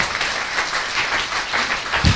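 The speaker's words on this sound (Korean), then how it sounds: "박수 한번 치고 넘어가시죠." Audience applause on a Korean current-affairs talk show: a dense, steady burst of many hands clapping together, holding at an even level for about two seconds with a slight swell near the end.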